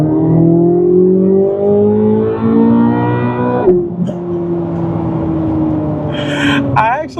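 A 2024 Chevrolet Corvette C8 Z06 engine pulls hard under part throttle, its droning pitch climbing steadily, dropping at a gear shift, then rising again, loud and close with some cabin noise.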